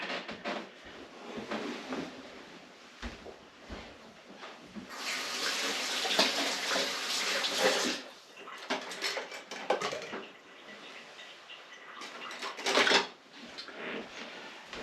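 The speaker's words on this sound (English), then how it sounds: "let me wash my hands here" Running tap water while hands are washed at a kitchen sink, a close, steady hiss and splatter that surges louder midway and fluctuates as the hands move under the stream.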